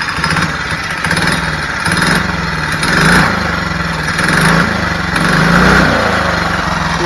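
A small two-stroke engine fitted to a bicycle runs steadily with a buzzing, raspy drone that swells and eases slightly as revs shift, loud and close with no talk.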